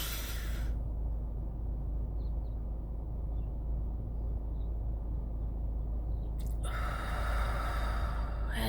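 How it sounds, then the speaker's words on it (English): Slow, deep breathing close to the microphone, a long drawn inhale followed by a sharp exhale, with no talking. "We all need to take a deep breath."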